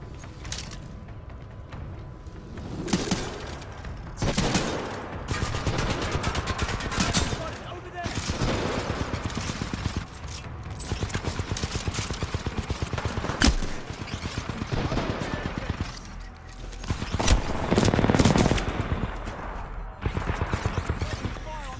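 Titanfall 2 guns fire in dense repeated bursts of rapid automatic fire, loud and close, with short gaps between bursts and a player talking over them.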